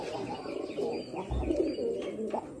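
Black pigeons coo softly nearby in low, throaty murmurs, with a few faint chirps and light rustling in a quiet setting.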